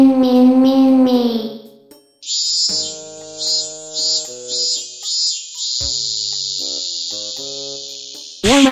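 A human voice imitates the call of a minmin cicada, shifting from a voiced drone into a high, sustained buzzing whine with a series of rhythmic pulses, loud and close with no other sound.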